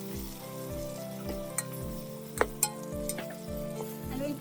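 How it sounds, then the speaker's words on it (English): Chopped onions hit hot oil with spices in a rice cooker, a steady close sizzle of frying with a regular rhythm of stirring scrapes and a few sharp clinks of a spoon against the pot. "I'm going to add in the chopped onions now"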